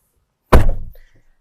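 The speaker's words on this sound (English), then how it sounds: "The door opens nice and wide." A Nissan X-Trail car door makes a single close, loud thunk with a short clatter that fades within half a second, then silence.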